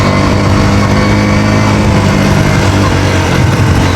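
A KTM Duke 200 motorcycle on a test ride drones loudly and steadily for four seconds, its engine hum mixed with constant wind rush, with no clear speech over it.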